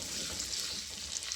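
Chopped onions frying in a pan, giving a soft, steady sizzle with fine crackles. It is faint and close, with no voices over it.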